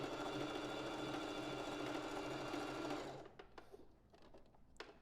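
A sewing machine stitching a three-step zigzag stitch on lingerie fabric: a fast, steady, whirring run for about three seconds, then it stops, leaving a few faint clicks and handling noises.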